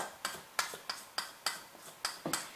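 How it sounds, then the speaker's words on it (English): A gas stove igniter ticks as the burner is switched on, giving about nine sharp, evenly spaced clicks roughly a third of a second apart, close and clear with no talking. "switch the stove on."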